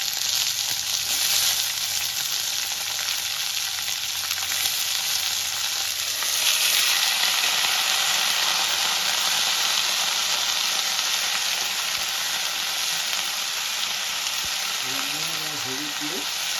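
Potatoes frying in hot oil with tempering spices, a steady close sizzle that swells louder about midway and keeps up throughout, with no talk over it.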